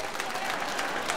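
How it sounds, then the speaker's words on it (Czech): Sustained applause from a festive audience at a Slovak celebration, a steady, dense roar of many hands clapping at once, fairly loud and unbroken, with crowd murmur mixed in. "váš obrovský, neutíchajúci potlesk"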